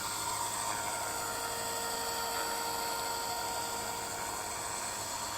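A WLtoys V950 RC helicopter flies with a steady high-pitched electric whine and rotor buzz. The tone stays constant and fairly close the whole time, and there is no speech.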